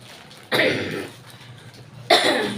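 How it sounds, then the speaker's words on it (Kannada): Two harsh, close coughs about a second and a half apart, each a sudden burst trailing off, with quiet in between. "ಕೆಮ್ಮು ಹೋಗ್ತಾ ಇಲ್ಲ"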